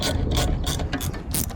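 A ratchet tightens a nut on a stud to press in a Strongflex subframe bushing for a Toyota Supra MA70/JZA70, with a few close, sharp clicking strokes over a low mechanical rumble and no talking.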